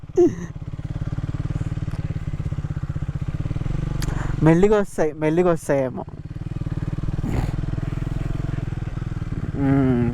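A Triumph Speed 400 motorcycle engine runs steadily throughout with a low continuous drone on a monsoon-season ride, while a person speaks briefly over it partway through.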